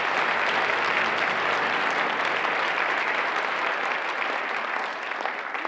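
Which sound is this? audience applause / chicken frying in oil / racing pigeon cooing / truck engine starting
audience applause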